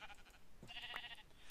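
A single sheep bleats briefly at medium distance in Minecraft, a short wavering cry over faint background ambience.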